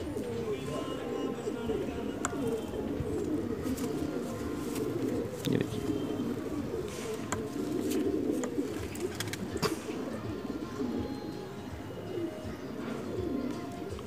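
Pigeons cooing in a loft where racing or high-flying pigeons are kept, soft low coos running steadily throughout with occasional faint chirps and some background noise.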